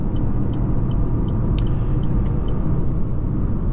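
A three-cylinder Buick Envista cruises along the highway, its cabin filled with a steady low road rumble and a few faint ticking clicks.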